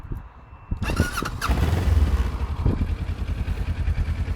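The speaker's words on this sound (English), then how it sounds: "this is the thump which actually the bike produces" A Kawasaki Ninja ER6F motorcycle engine fires up with a brief squeal and clatter, then settles into a close, steady, thumping exhaust rumble.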